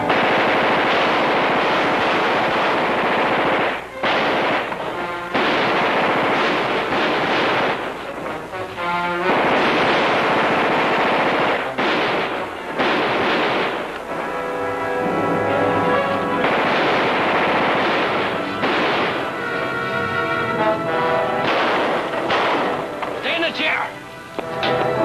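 Machine gun fire in a 1957 TV drama, sustained and loud, with rapid rattling bursts and explosions running through most of the scene, with voices shouting over it.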